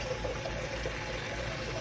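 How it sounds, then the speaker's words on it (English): Softened water from a small homemade resin water softener drains steadily into a container, a continuous close trickling rush with no talking. "See it draining in? All that is soft water in there."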